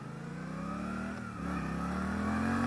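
A 2023 Suzuki GSX-8S motorcycle accelerates hard with the throttle held open. Its engine note climbs in a steady, continuous rise, loud and close, with no talking.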